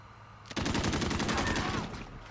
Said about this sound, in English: Alright, the M91 light machine gun.